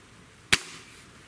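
A single sharp, close crack from an air rifle firing a heavy JSB Exact 18.13-grain pellet, a brief snap that decays fast into a quiet background.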